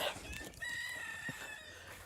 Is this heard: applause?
no